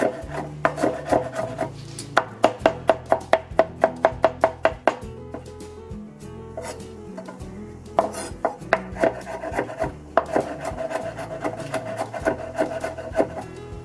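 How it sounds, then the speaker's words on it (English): Garlic and onions minced with a knife on a cutting board: rapid, close, rhythmic chopping taps in several bursts with short pauses, no voices. "So I'm just gonna mince this really good"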